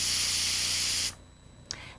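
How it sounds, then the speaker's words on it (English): A Revere Ware Meal'n Minutes electric pressure cooker vents steam through its release button, a strong, close, steady hiss that stops abruptly about halfway through, followed by a brief faint second puff. "To quickly release the cooker's pressure, push the steam release button located here."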